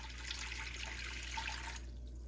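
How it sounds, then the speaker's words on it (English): Warm water running from a tap or being poured while bread dough is started for a Thanksgiving stuffing bread, a steady wash of splashing liquid lasting throughout before easing off near the end, with no talk. "Most bread recipes will have you start with your warm water"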